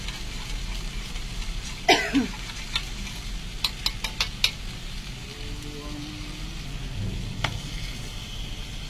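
Spices being stirred into a dish cooked without oil, a soft scraping stir with gentle sizzling, plus a loud cough and a few sharp clinks of a utensil against the pan.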